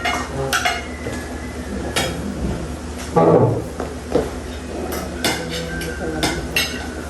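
A ladle clatters and scrapes as it stirs a metal pot in a home kitchen, with a few sharp clinks and knocks while people talk nearby.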